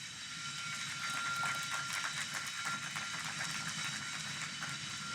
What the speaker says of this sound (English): Mario, you see that train right there?